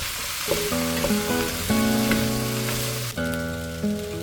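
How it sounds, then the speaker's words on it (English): Potatoes and pumpkin frying in a pan with a loud, constant sizzle, while a spoon stirs them in a few scraping strokes and knocks against the pan, close up with no voices. "I'm going to pop those potatoes and pumpkin in the pan. Give it a good stir."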